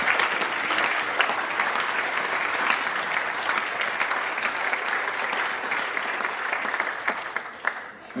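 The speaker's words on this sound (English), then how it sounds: "Let's give them a round of applause." Sustained applause from an audience at a high school Veterans Day program honoring veterans, a steady wash of many hands clapping throughout, fading slightly toward the end.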